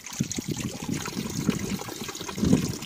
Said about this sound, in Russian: Нашли тут еще источник воды. Сейчас наберу воду.